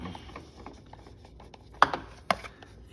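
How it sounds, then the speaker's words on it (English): Metal wrench working loose the oil filter on a riding lawn mower, a few scattered faint clicks and scrapes followed by two sharp, close clanks near the end, with no talking. "we've got a wrench here, we can loosen it up"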